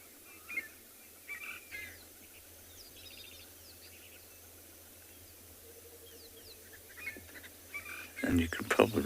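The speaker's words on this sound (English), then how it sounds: "you can probably hear two birds in the background. One is the fork-tailed drongo, quack, quack. The other is the subtle call of the Birchall's cuckoo." Scattered chirps and calls of a fork-tailed drongo and a Burchell's cuckoo at sunrise on a safari reserve, faint and distant over quiet ambience, with a louder clatter at the end.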